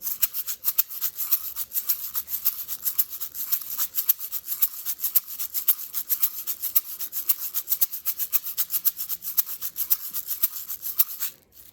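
Fast, continuous rattling and scraping of small pellets inside a homemade can shaker painted black, hissy and bright, shaken steadily for several seconds with no voices.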